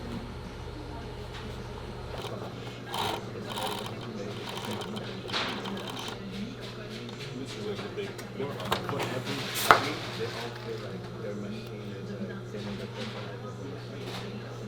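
A Union Special chain stitch sewing machine hems a pair of jeans, giving a steady low motor hum with light mechanical clatter that runs through the whole stretch.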